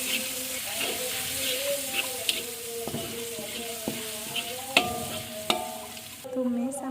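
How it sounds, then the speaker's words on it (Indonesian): Freshly ground spice paste sizzles steadily in hot oil in a wok while a utensil scrapes and taps against the pan in irregular strokes, close and clear, with no one speaking. "Kita tumis bumbu yang udah kita ulek tadi"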